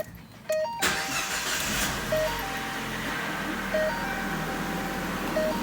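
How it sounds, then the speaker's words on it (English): A Ford Fiesta engine cranks briefly, then catches and settles into a steady idle after catalytic converter replacement, with a faint periodic beeping alongside. "Idle the engine and allow it to warm up slowly."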